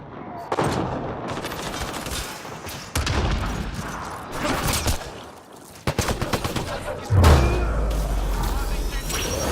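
Combat gunfire against turrets in the video game Mass Effect Andromeda, in repeated loud bursts of rapid shots with a deep boom partway through and steady rumbling between volleys.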